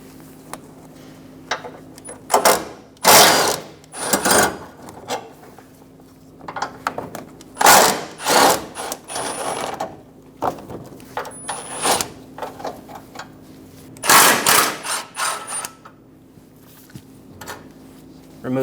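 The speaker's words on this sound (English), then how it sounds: "Using a 15mm socket, we're going to go around removing the bolts for the backing plate for the fog light housing." A ratchet with a 15mm socket clicks in quick bursts while bolts come off the fog light backing plate of a 2014-2018 Chevrolet Silverado 1500, close and fairly loud, separated by short pauses and light knocks.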